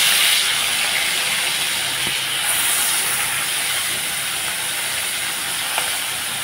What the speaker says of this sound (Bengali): মাছগুলো আমি ভেজে নিলাম।